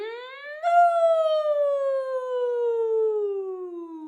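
A voice imitates a cow's moo: one long sustained tone that rises briefly, then slowly glides downward for several seconds, close and clear.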